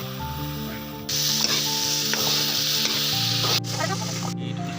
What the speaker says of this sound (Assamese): এইটো দিয়াৰ পাছত আমি পিঁয়াজটো দি দিলোঁ, আৰু এতিয়া এইখিনি দি দিলোঁ, দি লৈ অলপ লৰাই দিব লাগে